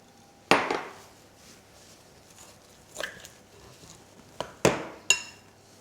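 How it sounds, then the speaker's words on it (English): Flat knife stirring milk into gluten-free pizza dough in a bowl, a few sharp clinks and scrapes against the bowl spaced irregularly, close and fairly quiet between hits. "using a flat knife, just give it a stir until it starts to come together"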